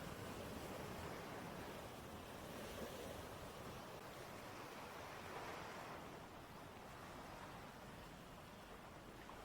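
Sea waves wash onto a beach as a faint, steady hiss and rumble that swells and eases slightly, with no voices.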